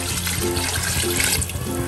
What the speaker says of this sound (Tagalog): Lagyan ko na rin po ngayon ng tubig.